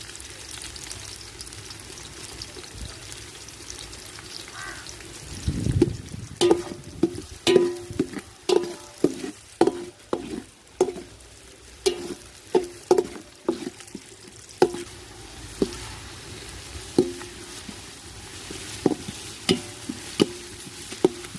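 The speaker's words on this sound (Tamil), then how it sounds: "வெங்காயம் நல்லா செவக்கட்டும்." Onions frying with cardamom and cloves in a pan for chicken biryani, a soft steady sizzle with repeated sharp scraping and clinking stir strokes starting partway through.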